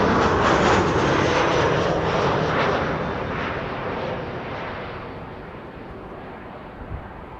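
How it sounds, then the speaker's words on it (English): A Transavia airliner arriving at Amsterdam Schiphol Airport roars overhead as a loud, broad jet rumble that slowly fades as it passes, with no talking. "First film the arrival of Transavia,"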